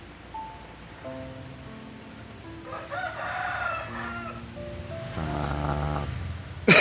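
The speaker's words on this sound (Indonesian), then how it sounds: "ayam kampung" A free-range village rooster crows in the middle distance, one drawn-out call followed by a second shorter burst, over a quiet outdoor background with faint tonal hum.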